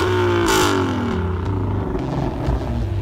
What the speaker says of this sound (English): The active dual exhaust system produces an unmistakable Shelby exhaust note, delivering both refined tone and aggressive presence on demand.